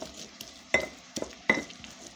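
Chile is ground by hand with sea salt, heard as a few separate, sharp grinding scrapes and knocks about three-quarters of a second apart, close by, over a quiet background.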